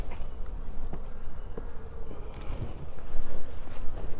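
Honey bees at an open hive in Florida in October, a steady outdoor buzzing hum with faint scattered clicks and rustles throughout, no voices.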